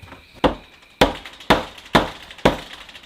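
A hammer strikes metal on a shipping container five times at an irregular pace, each a bright clang that decays quickly, with quiet gaps in between.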